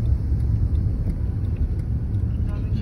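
Steady low rumble of road traffic with cars passing nearby near a railroad crossing, a continuous droning wash of engine and tire noise without clear breaks.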